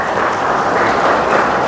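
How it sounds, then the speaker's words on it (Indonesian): Dense, loud applause from the audience at the opening of a PDI Perjuangan regional party conference in Aceh, a continuous wash of many hands clapping together. "Tepuk tangan untuk beliau"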